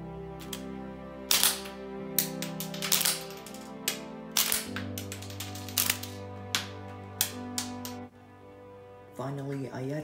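A LEGO-built blowback, shell-ejecting Desert Eagle toy pistol cycles through a string of sharp plastic clacks and snaps at uneven intervals, close and fairly loud over a steady background tone.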